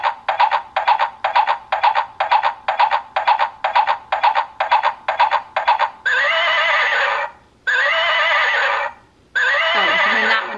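A toy stick horse's electronic neighing: a rapid run of repeated whinny bursts, then three longer, drawn-out neighs, loud and close.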